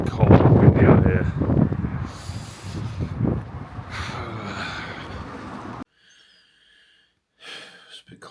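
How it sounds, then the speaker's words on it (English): Heavy wind buffeting a microphone outdoors, loud rumbling gusts for several seconds, then a brief quiet stretch before the blustering resumes. "Really cold and windy out here."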